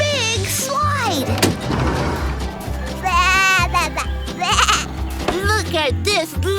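A baby goat bleats several times in short wavering cries, loud and close, over a bouncy cartoon music backing in a barnyard daycare setting.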